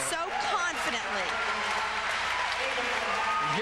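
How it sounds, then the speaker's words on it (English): An appreciative crowd applauds a dive at the 1994 USA Diving men's 10-meter world trials finals, producing a steady, dense wash of clapping that lasts throughout while a commentator's voice talks over it. "And here's that appreciative crowd."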